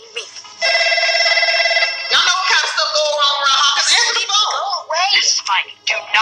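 A telephone bell rings steadily and loudly for about a second and a half, then voices break in over it with excited talk and shouting.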